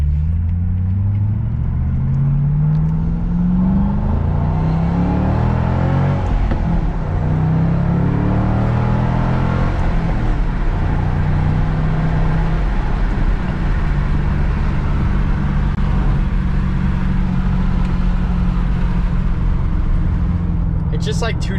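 A 2006 Ford Mustang GT with a 4.6 V8 and five-speed manual revs up from inside the cabin, its loud, low engine rumble climbing through rising pitch sweeps and gear changes, with steady road roar underneath.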